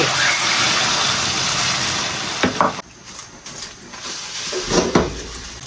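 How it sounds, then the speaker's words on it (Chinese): Beaten eggs hitting hot oil in a wok, a loud steady sizzle that fills the first few seconds and then thins into crackles and scraping clatter as the eggs cook. "锅中加油，油热下蛋液"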